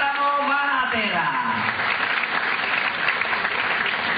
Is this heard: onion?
no